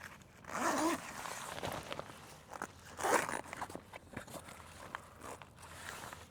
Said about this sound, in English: And we'll zip it across.